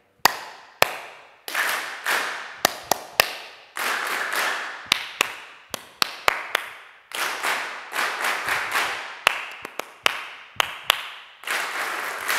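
Bursts of hand clapping from a group in a rhythm imitation game, sharp claps in varied patterns and short series with brief pauses between phrases, loud and close.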